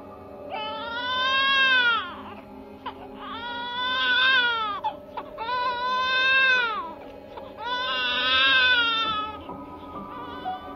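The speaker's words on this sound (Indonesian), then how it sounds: "itu terdengar suara tangisan bayi" Baby crying in a house, four long wailing bursts with short breaths between them, steady and fairly close, over a faint background hum.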